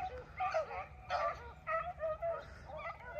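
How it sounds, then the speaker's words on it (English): Beagles on a rabbit chase in rainy woods, giving repeated yelping bay notes in short bursts about every half second, moderately distant, with no talk over them. "beagles running rabbits"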